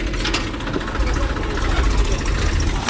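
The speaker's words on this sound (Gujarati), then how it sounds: "આપણા ડેલામાં આવી ગયું ટ્રેક્ટર" A tractor engine idles in a courtyard with a steady, loud low rumble and a faint knocking pulse.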